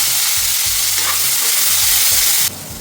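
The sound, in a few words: onions and green chillies frying in oil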